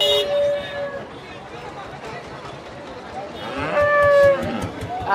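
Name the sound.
cattle at livestock market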